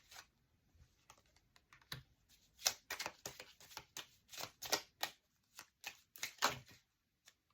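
Tarot cards being shuffled by hand, a run of quick papery riffles and flicks building into denser, louder bursts, close and alone without speech.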